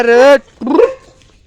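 Two short, loud dog vocalizations close by, a bark followed by a second yelping bark, then quiet.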